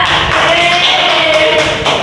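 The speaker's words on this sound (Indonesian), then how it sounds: "Tepuk tangan buat Mas Ilza." Students in an elementary school social studies class clap for a classmate, a dense, steady patter of many hands that fills the room throughout.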